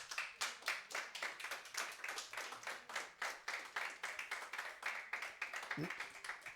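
Church congregation clapping in a steady, rhythmic unison beat at a moderate distance, an even pulse of many hands keeping time together with no pause.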